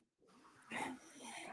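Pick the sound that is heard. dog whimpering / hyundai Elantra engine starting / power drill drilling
dog whimpering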